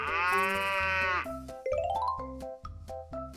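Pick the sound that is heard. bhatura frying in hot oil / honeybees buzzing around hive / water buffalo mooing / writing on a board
water buffalo mooing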